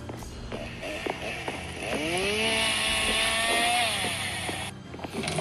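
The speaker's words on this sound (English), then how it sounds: "I hear a chainsaw. Is there a chainsaw right around here?" A chainsaw roars steadily inside a horror maze video game, a loud sustained buzzing drone across the clip, with scattered higher chirping tones overlaid and no speech heard.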